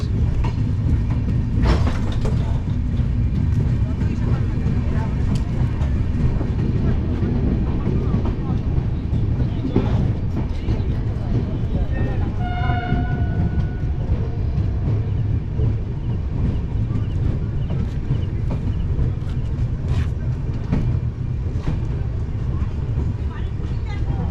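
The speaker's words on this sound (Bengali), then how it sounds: "Balurghat one three one nine zero train ছেড়ে দিল" The 13190 Sealdah Express, just departed from Balurghat station, rumbles along in a steady, loud roar with wind buffeting the microphone, a brief tonal whistle rising midway, and voices faintly mixed in.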